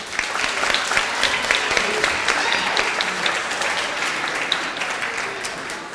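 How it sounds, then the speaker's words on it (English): Student union election results audience applauding a candidate, a sustained wash of many hands clapping at once, steady and fairly loud throughout with no speech. "round of applause for Eileen, please"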